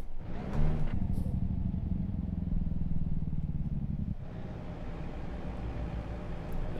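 A heavy truck engine in American Truck Simulator revs hard while downshifting without the clutch, a loud droning rumble that holds steady, then drops sharply and settles to a lower engine note.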